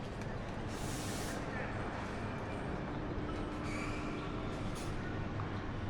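Steady, loud rumble of a passenger train running on the Vientiane to Vang Vieng railway in Laos, heard from inside the carriage as a continuous roar with a few brief hissing bursts and faint voices in the background.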